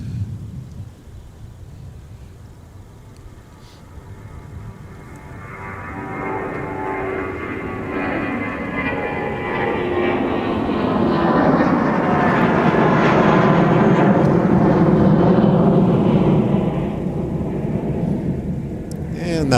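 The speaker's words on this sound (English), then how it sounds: "that was UA 1214 to San Francisco, SFO" A United jet airliner departing Minneapolis–St. Paul for San Francisco builds from a low rumble into a loud, sustained engine roar that peaks and then begins to fade, with no talk over it.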